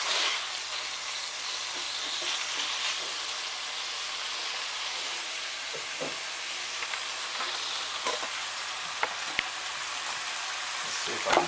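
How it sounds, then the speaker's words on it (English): Ground beef browning in a hot pan, a dense continuous sizzle with occasional soft stirring knocks, close and steady throughout without any voices. "So you just want to brown the beef."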